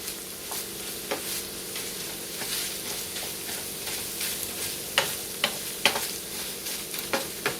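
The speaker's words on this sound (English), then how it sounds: "You want to cook it until it becomes fragrant." Garlic sizzles steadily in a pan of hot oil while a utensil stirs and scrapes it, sharper clicks and taps standing out near the end; no voices.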